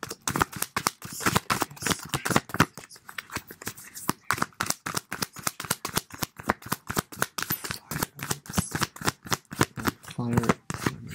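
Tarot cards shuffled for a love reading in a steady run of fast, crisp riffles and slaps that continues close and clear for several seconds, with no voice over it.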